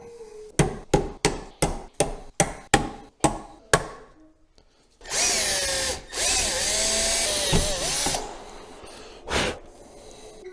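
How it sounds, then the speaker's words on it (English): Hammering on a center punch to mark a broken connecting rod on an Onan engine, about a dozen sharp, evenly spaced close strikes, then a loud power drill whining steadily as it bores the rod out, fading and briefly revving again. "and then we'll drill them out."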